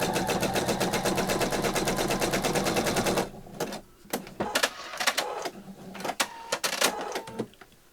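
A home sewing machine set to short, closely spaced satin-like stitches chatters rapidly and evenly for about three seconds, then stops and leaves scattered clicks and rustles.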